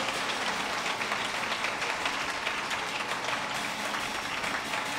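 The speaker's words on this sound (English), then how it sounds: "Oh, I love the way you are clapping." Congregation clapping hands during a church sermon, a dense, steady wash of many hands applauding together, loud and continuous from start to finish with no voices standing out.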